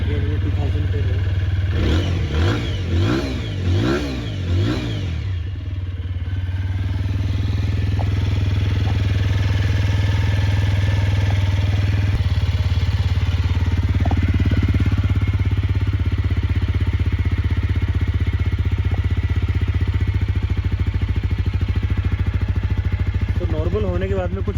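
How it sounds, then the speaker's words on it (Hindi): A 2025 TVS Apache motorcycle engine runs steadily at a raised idle of 2000 rpm throughout, a continuous low hum with a few revs near the start, with talking over it. "स्टार्ट करते ही इसका आरपीएम जो 2000 आरपीएम पे चला जाता है।"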